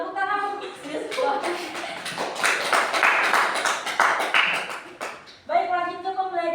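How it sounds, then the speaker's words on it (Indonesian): Classroom clapping for a student, a few seconds of scattered hand claps rising to a brisk patter, bracketed by a teacher speaking before and after. "Tepuk tangan untuk Mas Yosua."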